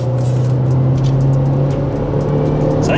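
An Opel Astra J GTC 1.6 Turbo 180 Ecotec fitted with an LPG conversion is revved close up, its engine and exhaust holding a steady drone with a faint rise near the end. No one speaks over it.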